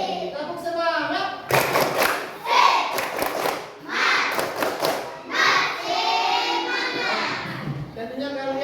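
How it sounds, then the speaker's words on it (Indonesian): Schoolchildren in a classroom perform a rhythmic group clap, bursts of clapping in patterned beats mixed with children's voices chanting along, loud and close. "Tepuk semangat."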